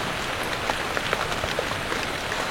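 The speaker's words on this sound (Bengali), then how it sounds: "এই যে বাইরে সকাল থেকে তো বৃষ্টি হয়েই যাচ্ছে" Rain falls steadily outside, a soft continuous patter with scattered individual drops ticking against a surface, heard alone and fairly close.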